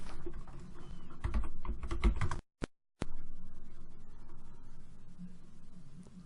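Rapid clicking of keys on a computer keyboard, loud and close, with a brief silent pause midway before the typing resumes more softly.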